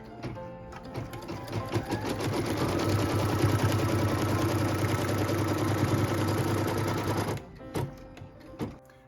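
An embroidery sewing machine stitches a tack-down line on a quilt block, a loud, fast, steady mechanical whir that runs continuously for about seven seconds, then stops, followed by a few brief clicks and handling sounds.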